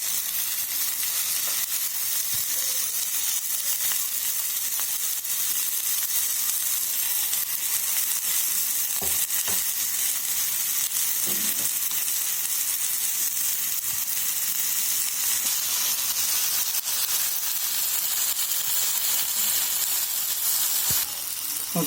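Egg frying in oil in a pan for a half-boil egg sandwich, giving a continuous dense sizzle and hiss that stays steady throughout, with a few faint scrapes and clicks.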